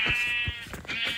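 A sheep in a video game bleats twice in quick succession, close and clear, with no talk over it.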